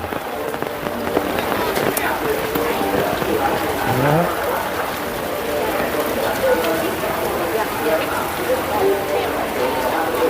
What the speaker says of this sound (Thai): บรรยากาศ ฝนตกตกตลาดนัด อำเภอกุดกระพุ่นจังหวัดอุบล